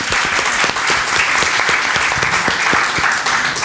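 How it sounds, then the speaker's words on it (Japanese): A church congregation applauds together in a steady, dense wash of clapping that fills the room from start to finish without a break. "もう一度主に拍手を捧げましょう。"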